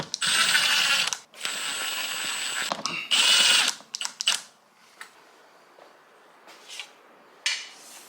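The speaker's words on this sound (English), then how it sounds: "Now put our little screw in." A small screw is driven into a gyprock wall with a power screwdriver: several loud, close, whirring ratchety bursts, then quieter fiddling clicks and a final short buzz.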